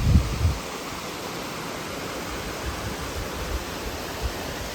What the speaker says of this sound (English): that right there is the top of the waterfall